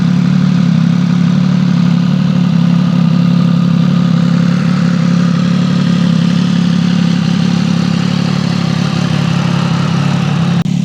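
Triumph Speed Triple motorcycle engine running with a variable exhaust valve held open: a loud, steady, close idle drone with a deep hum, continuous and alone.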